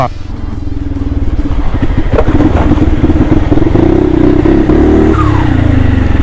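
A turbocharged Honda Forza 350 scooter with an 80 mm piston accelerates hard, its loud engine drone climbing in pitch close by, with a light rising whistle near the end.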